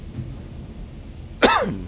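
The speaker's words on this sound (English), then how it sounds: "Sorry for the coughing." A single sharp, harsh cough from someone with a sore throat bursts out near the end, loud and close, after a stretch of quiet room tone.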